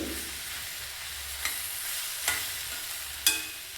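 Okra (lady finger) fries in a pan with a faint continuous sizzle, punctuated by three sharp scraping clicks of a spoon stirring against the pan, close and without talk.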